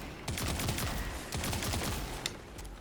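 Several Mint Retrograde weapon shots fired in Destiny 2 combat, a quick burst of sharp reports blending into dense, continuous gunfire clatter at close range, with no talk.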